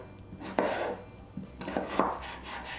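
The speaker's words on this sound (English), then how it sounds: "then I just cut them into fry shapes." Knife slicing a potato into fry-shaped sticks on a cutting board, a few distinct chopping strikes with soft scraping between them, close and alone.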